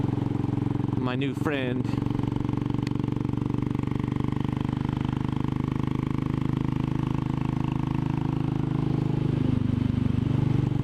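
Royal Enfield Classic 500 motorcycle riding along with a steady, loud engine drone throughout, someone speaking briefly over it near the start.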